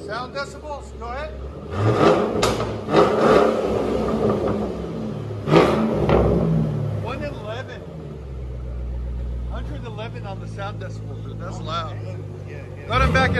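Loud Ford Mustang GT V8 exhaust, muffler deleted, snarls through several hard revs and settles into a rumbling idle, close and brash, with voices talking over it.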